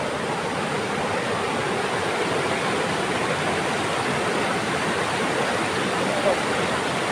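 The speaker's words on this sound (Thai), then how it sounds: "ไม่ใช่น้ำตกเขาเรียกน้ำแก่งน้ำนะคะ" Forest rapids on a strong river roar in a loud, unbroken rush that fills the whole stretch, with no voices.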